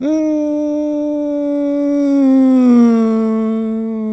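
A voice hums a long, steady tone that slowly slides downward, imitating a car passing by, close and fairly loud.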